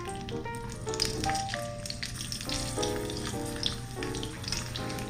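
Garlic and ginger frying in a hot pan, a steady close sizzle with crackling pops and a few clinks and stirring sounds over a low hum, with no talking.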